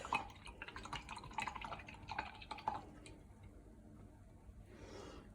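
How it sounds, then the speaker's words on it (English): Water spritzes from a spray bottle onto an art journal page, giving a series of quick, close, soft wet bursts, followed by a brief hissing spray near the end. "Oh, spritzing. It's okay. Do some water effect."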